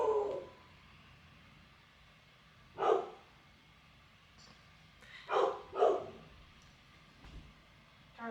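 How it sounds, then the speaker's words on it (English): A dog barks at home in a quiet room, with an isolated bark at the start, another a few seconds later, then a quick pair of fairly close barks. "He just keeps barking at everything."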